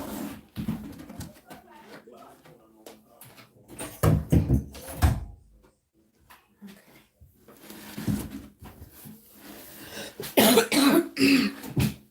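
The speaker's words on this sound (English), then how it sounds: "Let me just close my door." Indoor door closing during a home crochet session, with shuffling, thumps and a latch-like knock among handling noises, followed by someone talking, all fairly quiet and close.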